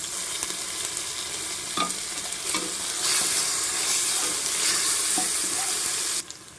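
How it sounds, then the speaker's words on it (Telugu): Ginger garlic paste frying in a pan for a Telangana-style mutton boti curry, a continuous loud sizzle with occasional stirring scrapes and clicks, ending with a sudden drop near the close. "ఈ అల్లం వెల్లిపాయ పేస్ట్ బాగా ఫ్రై కావాలన్నమాట."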